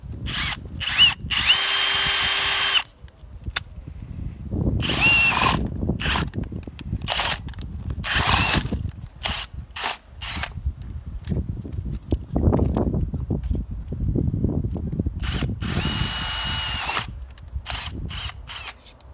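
Power drill boring a hole in a submersible well pump cover plate, in repeated loud bursts of whining drilling separated by short pauses, close and alone.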